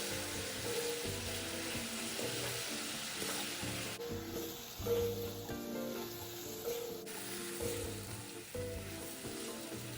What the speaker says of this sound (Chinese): 加入炸香后的鸡翅，以大火快速兜炒均匀，直到酱汁完全收干